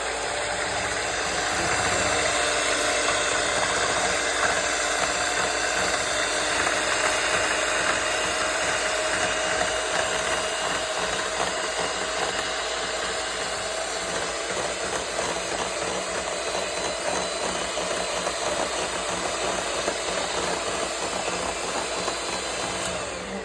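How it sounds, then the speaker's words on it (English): Four eggs whisked together in a bowl for a sweet potato pie, a steady, rapid scraping and clicking that runs without a break for over twenty seconds, close up, with no talking. "So I'm just gonna whisk it together a little bit before I put it in to my potato"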